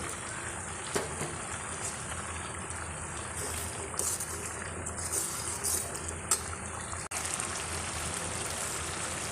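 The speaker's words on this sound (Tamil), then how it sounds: "இப்போ நல்லா கொதி வர ஆரம்பிச்சிருச்சு" A tamarind curry with pirandai bubbles at a rolling boil in a pot, giving a dense, crackling, rain-like patter with a few sharper pops.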